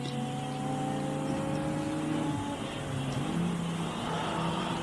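Race cars on a track, among them a Honda and an Audi: a steady engine drone with rising and falling tones as the cars pass, heard from a distance with no voices.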